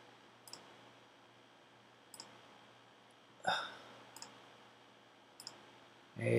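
A computer mouse clicks in GarageBand: sharp, isolated clicks at irregular intervals a second or two apart, close and fairly quiet over low background hiss, with a slightly louder double click midway.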